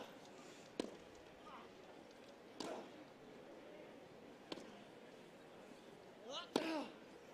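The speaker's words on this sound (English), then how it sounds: "Quality strike, you could hear it off the racket." A wheelchair tennis match at an outdoor championship, with a few crisp, isolated ball strikes off the racket spaced seconds apart over quiet court ambience and a brief voice near the end.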